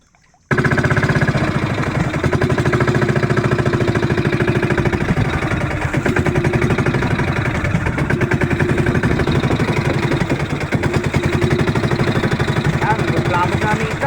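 A fishing boat's engine runs steadily and loudly close by for the whole stretch, a continuous knocking drone with no pauses, while nets are worked at sea.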